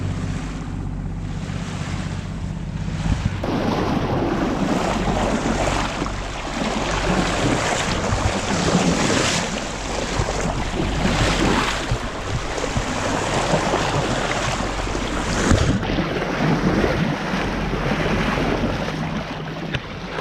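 Strong wind and sea surf roar around a sailboat under way off Portugal, a steady loud broadband rush with gusts buffeting the microphone throughout.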